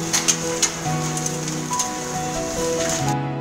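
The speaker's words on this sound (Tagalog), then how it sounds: "The rain is coming." Rain, apparently mixed with hail, pattering steadily on a surface in Abha, Saudi Arabia, close and continuous, with a few sharper drop impacts and faint tonal background sounds.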